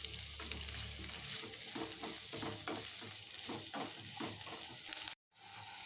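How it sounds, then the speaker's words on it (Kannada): Onion and capsicum slices fry in hot oil: a steady, loud sizzle with rhythmic stirring scrapes throughout, cut by a brief silence near the end. "ಈಗ ಇದನ್ನು ಕಾದಿರೋ ಎಣ್ಣೆಗೆ ಹಾಕ್ಕೊತಾ ಇದ್ದೀವಿ. ಹಾಕ್ಕೊಂಡು ಫ್ರೈನ ಮಾಡ್ಕೊತಾ ಇದ್ದೀವಿ"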